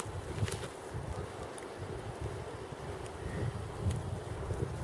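Cold, steady wind blows through a snowy blizzard outdoors, a low rumbling gusty buffeting that swells and eases across the few seconds, with no one talking.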